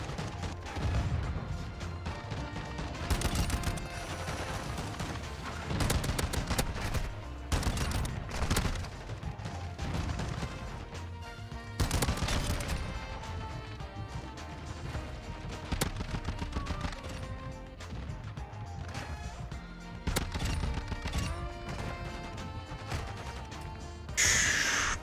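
An MX Guardian fully automatic shotgun fires in Call of Duty: Modern Warfare II, loud rapid blasts in long sustained bursts with short pauses between strings of shots.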